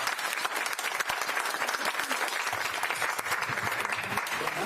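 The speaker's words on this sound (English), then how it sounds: "please join me in giving a round of applause to our new board members" A roomful of people at a community board monthly meeting gives steady, dense applause for new board members, sustained and fairly loud from start to finish without letting up.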